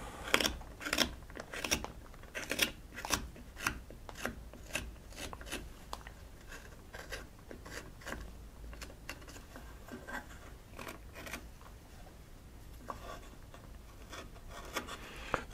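Deer antler carved by hand with a knife, thin sections shaved along the grain: rapid, irregular scraping and rasping strokes, close and fairly quiet, continuing without pause and with no talk.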